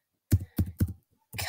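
Typing on a Chromebook computer keyboard: three quick clusters of key taps close to the microphone, then a longer rattling run of keystrokes after a short pause.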